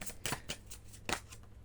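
Tarot cards being shuffled for a reading, a few quick, close riffling bursts of card noise, soft and without talk.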